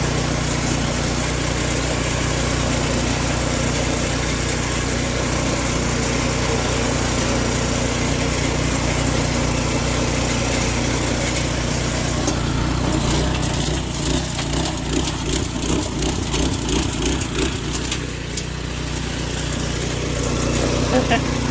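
A new, inexpensive Home Depot garden tiller runs its small engine at a steady drone throughout, loud and close, with a person talking over it and a rougher, fluttering stretch near the end.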